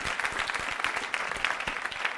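A church congregation claps together during a service, with a dense, steady burst of applause that sounds close and fills the room throughout.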